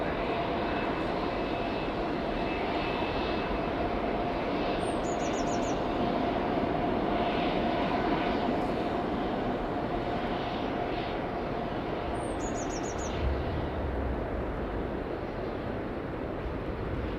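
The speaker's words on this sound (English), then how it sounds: "A350 to Houston" An Airbus A350 jet departs runway 09 bound for Houston, a loud sustained engine roar that fills the air evenly for the whole stretch, with faint bird chirps twice above it.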